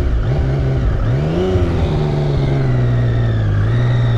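A 2015 Yamaha FZ-09 motorcycle engine revving up close: a loud, throaty tone rises in pitch, dips, then climbs again and settles into a high, sustained rev, with no talking.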